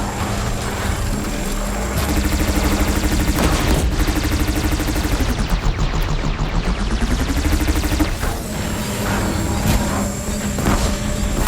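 Rapid bursts of disc launcher fire from the machines in Horizon Zero Dawn Remastered, a dense, loud mechanical barrage running continuously over game ambience with sweeping whirring tones rising and falling in the middle.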